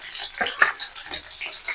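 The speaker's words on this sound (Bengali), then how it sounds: "এবার আমি তেলের মধ্যে দিয়ে দেবো কাঁচা লঙ্কা কুচি।" Chopped green chillies drop into hot oil in a pan for a bean and potato mash, giving soft, uneven sizzles and crackles close by, with a few stirring scrapes.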